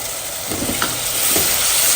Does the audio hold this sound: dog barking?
no